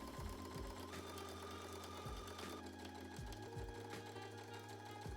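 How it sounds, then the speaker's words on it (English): A sewing machine edge-stitches a skirt to shorts fabric with a steady, close, continuous motor whir and needle rhythm, broken by a few short pauses and restarts. "Edge stitch the skirt and the shorts together."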